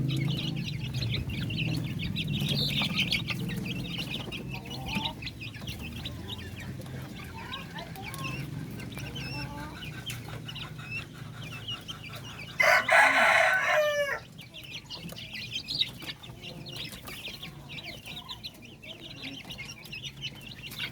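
Hens eating wet feed: a flock clucking steadily nearby, with a loud rooster crow partway through and quieter clucks and bird calls continuing after it, no talking.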